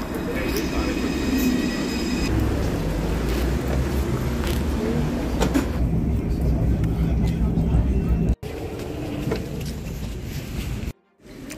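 A tram rumbles through a Paris station with a low mechanical drone and rattling, while people talk nearby; the noise cuts out briefly near the end.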